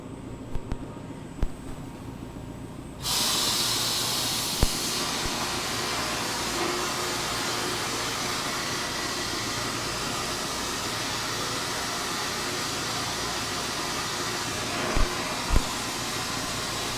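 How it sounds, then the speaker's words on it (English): An air compressor with a big tank kicks on in a workshop and runs as a steady, moderately loud mechanical drone, with a few faint clicks and knocks scattered through the continuous hum. "I just realized I don't have my air compressor on. Got a big tank, but let me go turn it on."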